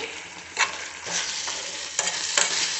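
Gongura leaves cooking down in oil in a pan for chutney give a continuous near sizzle, with stirring scrapes recurring every half second or so and no voices.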